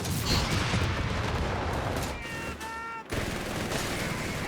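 Dense rattling gunfire in a Company of Heroes 3 battle, including .30 cal machine gun bursts, continuous and loud with a brief dip partway through and a few high tonal game sounds.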